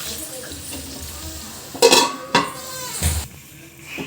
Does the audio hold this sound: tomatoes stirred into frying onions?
yes